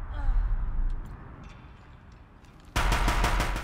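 A mounted gun in Horizon Zero Dawn opens up suddenly after a quieter stretch, firing a rapid, loud, evenly spaced burst of heavy shots.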